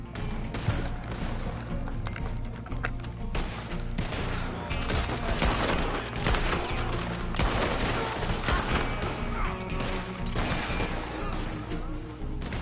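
A big shootout in the online cowboy game Red Dead Online, with dense, overlapping gunshots cracking continuously for several seconds in a busy, loud mix of near and distant fire.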